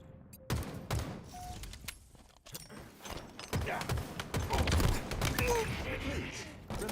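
Rapid gunfire in a Halo competitive scrim, bursts of automatic shots crackling in quick succession after a brief quiet start, fairly close and loud, with game sounds mixed in.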